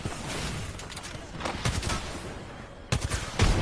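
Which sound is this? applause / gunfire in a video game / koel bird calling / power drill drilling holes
gunfire in a video game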